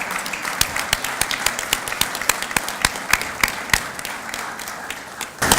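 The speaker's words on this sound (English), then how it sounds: "let's give one last round of applause for the graduating class of 2017" An audience at a leadership academy graduation applauds the class of 2017, a steady mix of sharp individual claps over a dense wash of clapping, sustained to the end.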